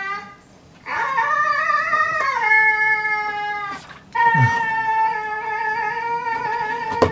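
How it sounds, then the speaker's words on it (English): A husky dog howls and yowls in long, wavering, pitch-bending cries, two sustained bursts separated by a brief pause, loud and close with no talking over it. "What is that husky doing?"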